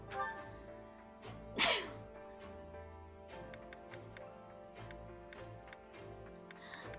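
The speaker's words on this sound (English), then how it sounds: "I feel like sneezing." A single short, sharp sneeze bursts out early, set against a soft, regular ticking like a clock in a game scene, with faint background music continuing afterward.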